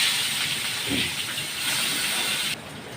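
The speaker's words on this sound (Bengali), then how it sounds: "চিংড়ি মাছটা নুন হলুদ লঙ্কা দিয়ে মেখে রেখেছিলাম, এবারে এটাকে দেবো, ভাজতে দেবো।" Prawns coated in salt, turmeric and chilli frying in hot oil in a wok, a dense, steady hiss of sizzling that holds for a few seconds before dropping slightly.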